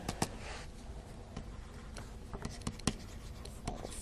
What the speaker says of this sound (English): Let me write down the rule here